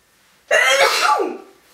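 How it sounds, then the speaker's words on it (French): A single loud sneeze bursts out close by after a moment of near silence, then trails off into a short breathy tail. "Je vais éternuer."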